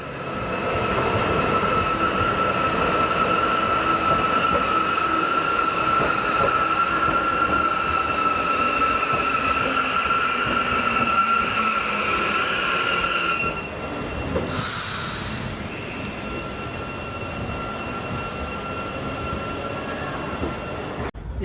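A 4-coach train runs along a modern railway line in Mallorca, rolling steadily with a sustained high wheel squeal and rumble for several seconds before the sound drops as the train eases off.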